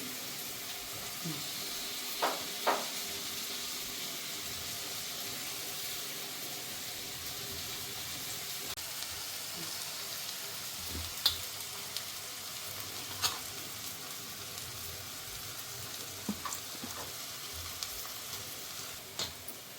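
Vegetables with gram flour (besan) sizzle quietly in a pan on the stove, a soft continuous hiss broken by a few small clinks and stirring taps, with no one speaking.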